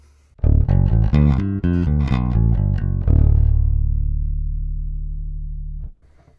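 A Fender American Ultra Jazz five-string bass, both pickups full up in active mode, plays a quick run of plucked notes, then a final low note rings out and slowly decays before cutting off.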